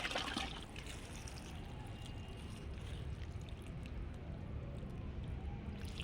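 Amrit jal liquid is poured into a fabric grow bag, heard as a soft continuous trickling and splashing that stays steady and close, opening with a slightly louder burst.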